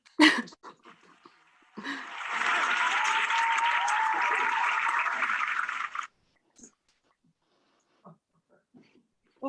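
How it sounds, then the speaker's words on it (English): A round of applause for graduating artists at an online launch event, a steady block of clapping lasting about four seconds before cutting off, with scattered faint noises before and after. "I'm just going to give our first 3 graduating artists a huge round of applause."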